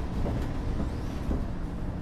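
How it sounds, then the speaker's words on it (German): Diesel bus engine in the OMSI 2 bus simulator game, a Euro 6 city bus, giving a steady, loud, continuous drone with no pauses. "Mein Bus hört man natürlich."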